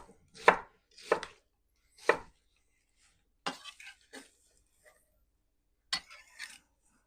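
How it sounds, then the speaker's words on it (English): A knife chops an onion on a cutting board while gumbo ingredients are being prepped: six close, crisp strikes, three evenly spaced and then three in a looser cluster, with quiet pauses between. "For our onion, we're just going to cut it 1, 2 times that way, and then 1, 3 or 4 times the other way."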